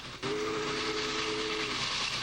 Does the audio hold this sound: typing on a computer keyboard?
no